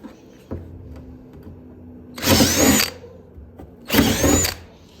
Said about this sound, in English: Drill it through.